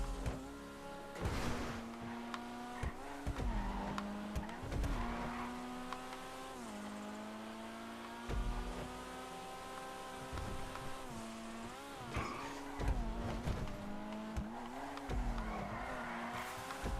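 A sports car in GTA Online revs steadily with its engine droning and shifting pitch, while short tire squeals and skids break in repeatedly over the constant motor sound.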